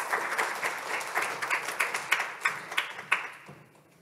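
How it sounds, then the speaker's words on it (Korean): An audience claps at the close of a presentation at a Korean briefing on greenhouse gas international reduction projects, a steady burst of applause that thins out and fades over about four seconds, with a few separate claps standing out. "다시 한번 박수 부탁드리겠습니다"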